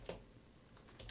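Typing on a computer keyboard: a few faint, quick key clicks near the start and end of a brief, quiet moment, with no talking.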